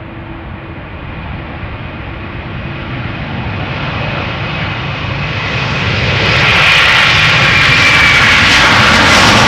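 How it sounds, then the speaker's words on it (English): A Delta Air Lines Airbus A330-300, eight years old, passes at Schiphol Airport, its jet engine roar swelling steadily louder and brighter as it nears, peaking in a strong hissing rush near the end. "Delta Airlines flight 161 coming this way, going to Minneapolis, Minnesota. A330-300, 8 years old."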